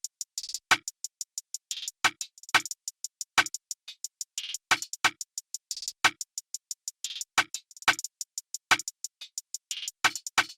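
Steady, rapid hi-hat ticks run continuously while sharper rim shot clicks land in a syncopated pattern over them, forming a simple, dry beat.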